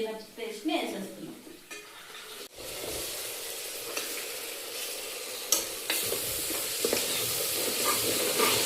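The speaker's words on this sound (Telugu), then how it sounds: "ఈ పేస్ట్ కూడా ఫ్రై అయిపోయింది." A paste of ginger, garlic, tomato, coriander and mint sizzles and fries in a pressure cooker pot for biryani, a steady loud hiss broken by the scrape of stirring, with no voices.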